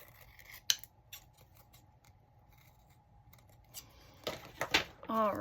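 Scissors snip through jumbo playing cards in a craft setting, a few sharp cuts scattered across a quiet background, ending with a denser burst of crisp cutting strokes.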